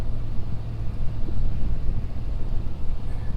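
A 2020 Ford Super Duty pickup climbs a snow-covered mountain, its engine a steady, close low rumble as the tires pull uphill, with no talking.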